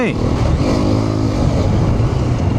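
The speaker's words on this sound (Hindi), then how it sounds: "हाँ ये बाइक तो यहाँ पे भी बढ़िया चल रही है" A Hero Xpulse 210 motorcycle engine drones steadily while being ridden off road, loud and close, with a rising pitch at the start and wind noise throughout.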